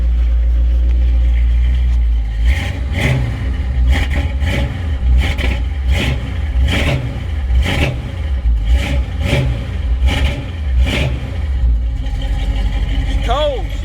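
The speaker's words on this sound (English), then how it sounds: "I'm gonna give y'all a few revs and we're gonna shut it off" A car engine fitted with electric cooling fans is revved repeatedly, about a dozen quick throttle blips rising over a loud steady idle, close to the microphone with no talking.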